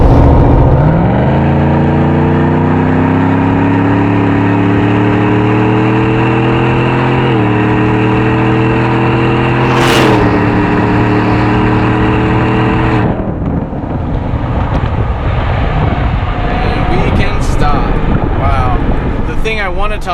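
Supercharged GMC Denali truck (HPE650) accelerating hard from a roll, its engine note climbing steadily in pitch as it pulls, loud and continuous over wind noise until the throttle lifts near the end.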